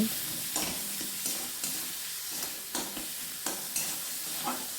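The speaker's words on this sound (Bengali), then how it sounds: "খুব ভালোভাবে নাড়াচাড়া করে নেব যতক্ষণ না পর্যন্ত টমেটো খুব সুন্দরভাবে নরম হয়ে আসছে" Chicken masala with tomatoes and salt being stirred in a pan, with regular spoon strokes scraping through the mixture over a steady close sizzle and no voices.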